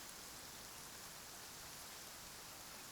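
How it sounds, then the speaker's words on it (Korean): Steady rain falls in the Genshin Impact video game, a dense, even hiss of rainfall that continues alone, with no voices, for the full length. "비가 오는 것 같네."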